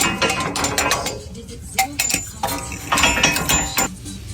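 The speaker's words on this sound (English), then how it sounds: "So now we can take off this lower bolt completely and pull everything down through here." Ratchet clicking and metallic clinks while a lower strut bolt is taken off a 4Runner's lower control arm during a Bilstein 6112 preload spacer install, with a run of quick close clicks and scattered tool taps.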